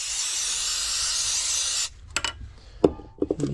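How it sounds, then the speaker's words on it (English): Brake cleaner sprays in a loud, steady aerosol hiss onto a Honda Elite scooter engine part for nearly two seconds, then stops, followed by a few scattered knocks and handling sounds. "I'm just gonna give it a quick brake clean"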